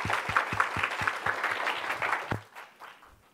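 An audience at a security conference talk applauds to welcome a speaker, a full, steady patter of many hands clapping close by that carries on for over two seconds before tapering off.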